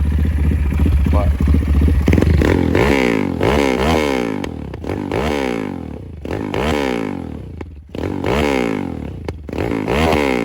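A 205cc Honda Grom motorcycle engine runs and revs close by after trouble with stalling, rising and falling in repeated sweeping bursts across the clip, with clattering mechanical noise underneath.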